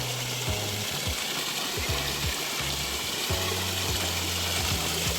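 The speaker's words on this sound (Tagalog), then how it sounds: "Mini waterfall." A small garden waterfall pours steadily, making a continuous close rush and splash of water with no talk over it.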